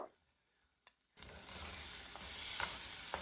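Potatoes tipped into a pan of spiced masala start frying, a sudden loud, steady sizzle after a second of near silence, with faint scrapes of stirring on top.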